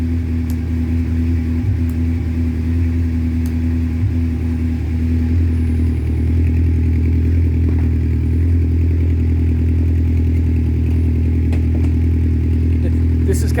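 A 1985 Honda 700 Nighthawk motorcycle idles after a cold start, a steady low engine drone that holds evenly throughout at close range, with light clatter and no revving.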